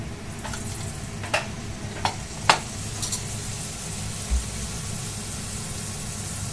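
Teler pitha, Bangladeshi oil cakes, frying in hot oil with a steady, close sizzle and a low background hum, broken by a few sharp taps and clicks.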